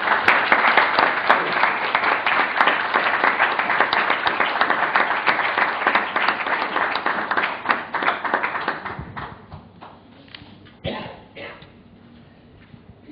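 A seated audience at a reading and conversation with Timothy Knatchbull gives a round of applause for Lady Mountbatten, dense and sustained at first, then thinning to scattered claps before fading out.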